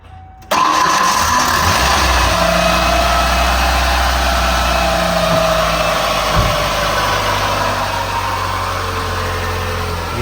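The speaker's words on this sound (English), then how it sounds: "crank her up and show you guys how it's running" A 1994 Ford Ranger engine cranks briefly and catches, then settles into a steady, loud, close idle that runs evenly for about ten seconds after a fresh alternator replacement.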